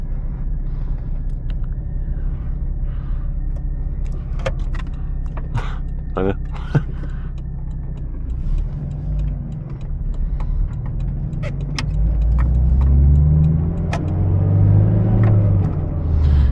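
A VW Corrado G60 engine, 160 HP, idles with a low rumble, then revs up into a louder, deeper roar near the end, with brief voices and clicks inside the cabin.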